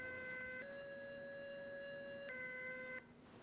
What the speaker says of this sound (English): That's an alarm clock with water hydraulics.